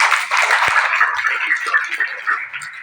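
An audience at an Indonesian business seminar breaks into applause, a dense patter of clapping hands that starts strong and gradually thins out over a few seconds.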